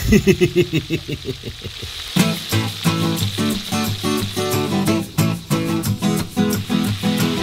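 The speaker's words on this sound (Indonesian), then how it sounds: "sekarang waktunya menggoreng koi-koi iki" Koi fish fry in hot oil with a dense, crackling sizzle that swells into a steady bubbling roar after an initial series of rhythmic clatters, close and loud throughout.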